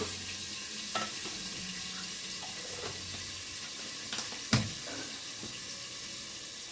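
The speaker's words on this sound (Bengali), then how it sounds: "আলুগুলোকে একটু ভালো করে ভেজে নেব।" Potatoes frying in oil in a pan for a soybean curry, giving a steady sizzle with occasional scrapes and clinks of a spatula against the pan, a sharp knock near the middle, and no talking.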